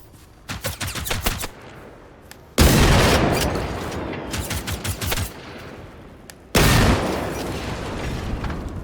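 Rifle gunfire in the shooter game Generation Zero: quick bursts of loud cracking shots, with two heavy booming blasts that ring out and decay, fairly close.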